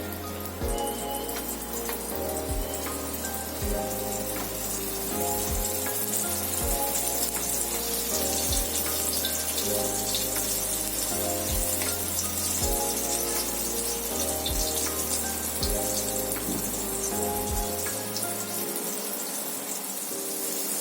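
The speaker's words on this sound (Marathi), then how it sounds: "अशा प्रकारे मी सगळे सुरमई याच्यामध्ये तव्यामध्ये सोडून घेतले।" Surmai (kingfish) pieces with a coating fry in hot oil on a tawa, a steady sizzling hiss running throughout beneath loud background music.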